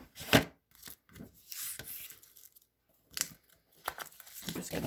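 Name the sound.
flipping cards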